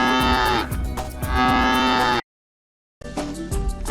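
Two long, loud cow moos as a sound effect, the first sustained call swelling and dipping, then a brief silence before a shorter, rougher second moo, heard close and alone.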